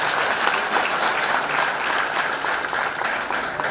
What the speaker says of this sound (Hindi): तालियां बजाइए, तालियों की गड़गड़ाहट